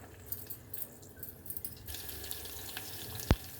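Cumin and mustard seeds sizzle softly in hot frying oil in a pan where green chillies were just fried, giving a quiet, steady crackle with a few small pops.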